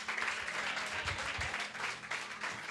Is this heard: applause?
yes